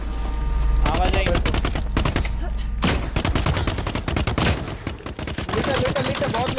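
Rapid bursts of automatic gunfire from the online shooter The Cycle: Frontier, loud and close, with sustained volleys and brief gaps between them.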